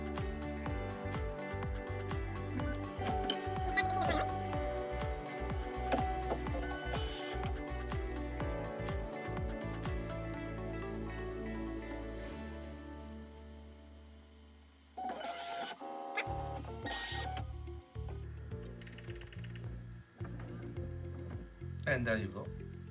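A Bambu Lab X1 Carbon 3D printer unloads filament, with whirring motor tones that shift pitch in stages, a short quiet pause, then a few more mechanical whirs and clicks.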